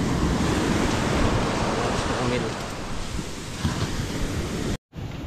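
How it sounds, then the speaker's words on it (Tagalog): Sea waves surge and break steadily on a shore lined with beach cottages and resorts, a loud continuous wash with wind buffeting the microphone, while a voice speaks faintly underneath. "Nagkaalon."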